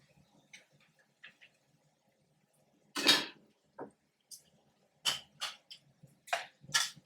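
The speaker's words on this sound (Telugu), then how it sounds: "ఇప్పుడు చికెన్ వేసుకుందాం మనం." Half a kilo of small-cut chicken pieces drop into a cooking pot for gongura chicken, a handful of soft, close clattering thumps separated by quiet gaps.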